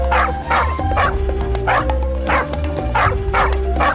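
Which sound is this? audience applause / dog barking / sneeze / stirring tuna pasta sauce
dog barking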